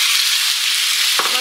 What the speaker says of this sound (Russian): И первым делом обжариваю мяско.